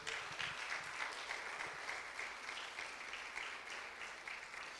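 A church congregation claps together in a steady, fairly quiet rhythm that carries on evenly throughout, with no voices standing out.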